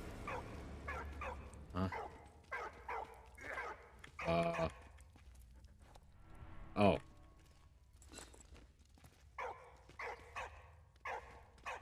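A dog barks repeatedly in the World War I video game Valiant Hearts, sharp woofs and a few whimpers scattered over low game music and ambience, with a player briefly murmuring.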